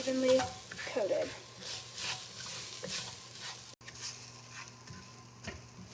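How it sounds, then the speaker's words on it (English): Curry powder, turmeric, salt and cayenne are stirred in a pot of golden soup with soft scraping strokes over a low sizzle, close and fairly quiet. "I'm going to add those and I'm going to stir it until it's evenly coated"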